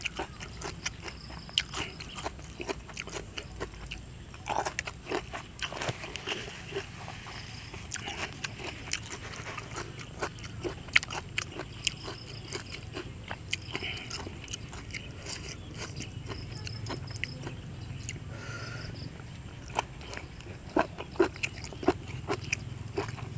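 Close, steady crunching bites and chewing of a crunchy spicy jellyfish salad, repeated wet crackling clicks over a low ambient hum, with no talking.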